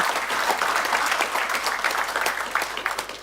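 Audience at the 2024 Whaiora Māori Sports Awards breaks into steady, dense applause, a full room clapping continuously and evenly throughout with no voices standing out.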